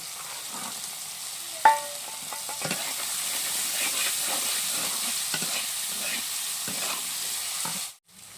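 Whole peas tossed into a hot pan for an egg sandwich filling, with steady sizzling frying and occasional scraping stir strokes, a sharp clink near the start, then the sound cutting off abruptly at the end.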